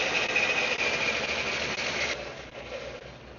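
A Jet 48x6 belt sander with a 1.5 horsepower motor winds down after shutoff, its steady whirring hum and rushing belt noise dropping in level partway through and fading gradually, close and alone.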